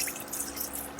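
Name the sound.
pouring chicken stock into a pot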